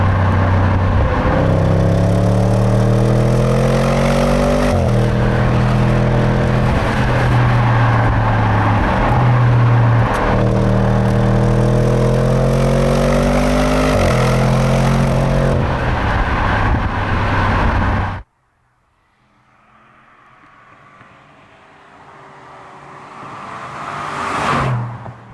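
A 2021 Audi S8 in dynamic mode accelerates hard, its engine rising through several gear changes loud and close for about eighteen seconds, then cutting to near quiet before another engine swells back in toward the end.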